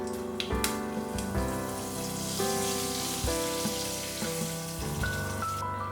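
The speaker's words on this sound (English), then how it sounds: "We'll let this start crackling. I'll add in 1/4 teaspoon of hing, and then I'll be adding in curry leaves." Hing and curry leaves crackle in hot oil for a Gujarati-style dahi kadhi tempering: a steady, dense sizzling hiss with small pops, heard up close under background music.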